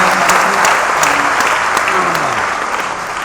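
Loud, dense audience applause at a stage event fills the clip steadily, with a faint voice tone briefly audible beneath the clapping before it eases slightly toward the end.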